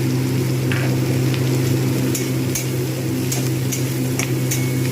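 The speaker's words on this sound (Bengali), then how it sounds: "আলুটা প্রথমে ভালোভাবে ভেজে নিতে হবে" Potatoes frying in a pan for egg pasta, a loud continuous sizzle with a steady low hum beneath and occasional sharp ticks from stirring, no voices.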